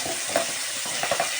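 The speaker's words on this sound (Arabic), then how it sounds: "هنقلبه كده مع لسان العصفور" Browned vermicelli is stirred in a hot pan with raisins while making Turkish-style rice, giving a soft steady sizzle with a few short scraping clicks of the spoon.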